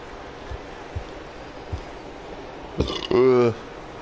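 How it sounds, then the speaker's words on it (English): A burp from a man playing a baseball video game, a short loud croaking belch near the end, following a few faint soft taps over quiet background noise. "Burp."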